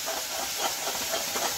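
Spice masala hitting a hot pan while cooking a traditional shrimp curry, giving a steady close sizzling hiss with soft crackling bursts throughout.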